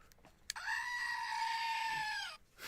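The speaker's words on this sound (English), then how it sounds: "So this is my screaming goat." A squeezed screaming goat novelty toy lets out one long, loud, wavering bleat-like scream of about two seconds, close up in a quiet room, preceded by a brief click.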